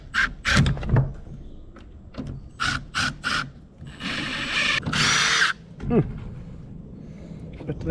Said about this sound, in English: Then I'm gonna get the impact driver out and put the screws to it.